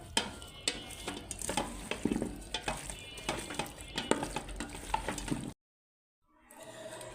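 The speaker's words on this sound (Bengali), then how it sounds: "যেহেতু মরিচ আছে এর জন্য হাতা দিয়েই মাখায় দিতেছি, কাঠের হাতা" A wooden ladle stirs chili-spiced meat being cooked in oil, with repeated scraping and knocking strokes over a steady sizzle, close up, then a sudden brief silence before the frying hiss returns.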